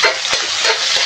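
Tomatoes dropped into a pan with garlic and onion, a loud close hiss of frying that stays dense and continuous.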